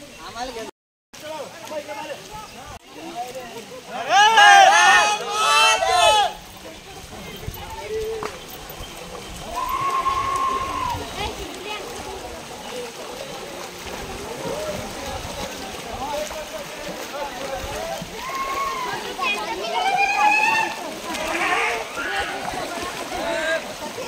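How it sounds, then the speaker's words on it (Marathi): A small river stream crosses the path to Jatashankar waterfall in the Ambabarwa sanctuary forest of Buldhana, Maharashtra, giving a steady background flow of water under frequent talk, with birdsong in places. "जटाशंकरला जाता जाता आपल्याला रस्त्यामध्ये अशी छोटीशी एक नदी लागते"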